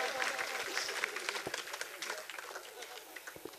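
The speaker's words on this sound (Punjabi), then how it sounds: "ਇਹਨਾਂ ਵਾਸਤੇ ਵੀ ਤਾੜੀਆਂ ਜ਼ੋਰ" Audience applause at a Punjabi stand-up comedy show, a steady wash of many hands clapping that holds for several seconds at moderate level, with no clear break.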